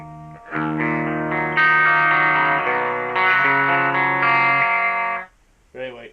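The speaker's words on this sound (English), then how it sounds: "So you can turn that gain right down, you get a little bit of a clean channel." Peavey 6505MH guitar amplifier on its clean channel with the gain turned down, giving sustained, mostly clean electric guitar chords that ring loud and close for about five seconds before a brief quieter strum.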